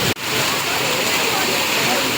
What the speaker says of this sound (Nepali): पानी परेको हेर्नु चाहिँ गाइस, सब डरलाग्दो पानी पर्दैछ।